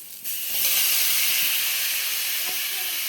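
A spice mixture poured into a hot pan for a mushroom curry sets off a loud, steady hiss that jumps up after a brief quieter start and holds strong to the end, with faint clinks underneath.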